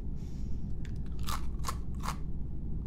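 Three crisp, crunchy ASMR bites or crackles come close to the mic at a slow, even pace over a soft, low background hum.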